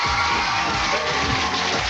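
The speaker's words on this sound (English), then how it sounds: "Give her a round of applause, folks." A dense wash of game-show studio audience noise, cheering and clapping together, loud and steady throughout.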